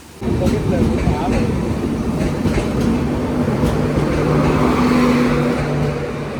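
The Diwa–Sawantwadi Express passenger train, heard from an AC coach, rumbles and rattles steadily as it departs a station in the Konkan, with a sustained tonal whine rising in the middle, loud and close throughout.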